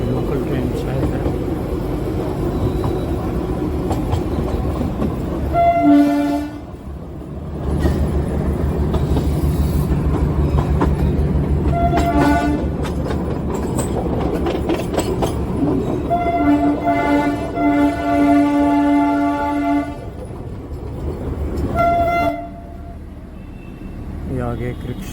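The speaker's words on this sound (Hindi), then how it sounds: "इधर ब्रॉडगेज का स्टेशन, ट्रेन खड़ी हुई, लोकल ट्रेन शायद है।" Local train standing at a broad-gauge station near Darjeeling, with rail rumble running throughout and several loud horn blasts near 6, 12, 17–19 and 22 seconds, a person talking over it.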